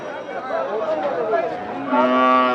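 Cattle at a crowded Bangladeshi cow market, including a local Sahiwal cow, with a drawn-out moo rising near the end over a steady murmur of people talking nearby.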